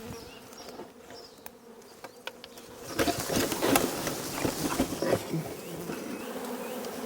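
A honeybee swarm being shaken from a tree hums softly at first, then surges into a loud, dense buzzing that holds steady to the end, with faint bird calls in the background.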